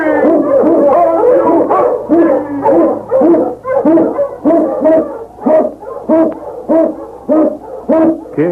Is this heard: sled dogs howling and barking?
yes